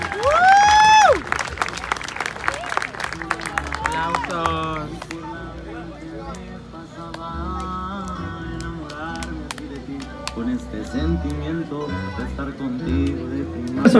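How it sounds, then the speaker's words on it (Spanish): Applause and cheering from party guests at a quinceañera celebration, mixed with loud music and crowd noise, with a whistle-like shout near the start and steady clapping continuing under the music. "vamos a despedirlos con ese aplauso otra vez"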